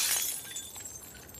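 Glass shattering in the video game The Last of Us Part II, a bright crash at the start trailing off into tinkling shards over about a second, alone and fairly loud.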